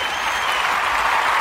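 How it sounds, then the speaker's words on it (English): A crowd applauding, a dense, continuous wash of many clapping hands at an even, loud level through the whole moment. "Give this man a round of applause."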